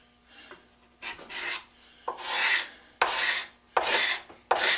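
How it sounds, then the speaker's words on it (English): A Stanley hand scraper plane rasps across a wooden board in a series of strokes, each a loud close scraping swipe with short gaps between, building into a steady back-and-forth rhythm. "you're running that scraper across the wood, it gets hot"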